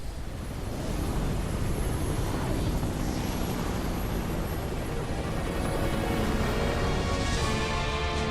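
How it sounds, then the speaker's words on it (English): Umbrella helicopters in the video game Resident Evil Code Veronica X, a steady whirring rotor and engine roar with dense, continuous noise at moderate loudness throughout. "Well, we got Umbrella helicopters."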